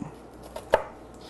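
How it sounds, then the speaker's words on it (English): A raw onion being diced on a cutting board, a single crisp knife chop with a lighter tap before it, close and brief, no speech. "we're just going to make nice little tiny diced pieces"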